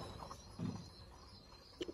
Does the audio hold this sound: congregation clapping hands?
no